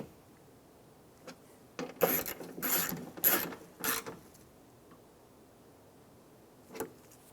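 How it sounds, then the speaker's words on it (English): Short bursts of ratchet clicking sound close by as bolts are tightened on a window regulator in a 2014-2019 Toyota Highlander, a few quick clusters in the middle with faint clicks before and after. "Go around and tighten down all of your bolts."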